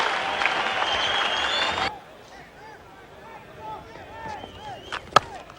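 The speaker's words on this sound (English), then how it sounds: "acknowledging the applause of this crowd" Broadband applause from a cricket Test match crowd in Australia fills the opening two seconds, then cuts to quieter ambient crowd murmur with a sharp crack near the end.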